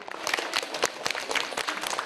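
A short burst of scattered clapping from a small group of sixth-grade children, brisk and uneven, fairly close.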